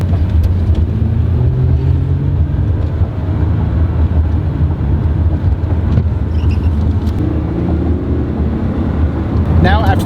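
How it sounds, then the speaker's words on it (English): Lexus car accelerating to about 45 miles per hour and slowing again while bedding in new brake pads, a steady road and engine drone from inside the cabin, with one brief squeal near the end. "So to start, we're gonna get up to about 45 miles an hour and I'm going to slow down."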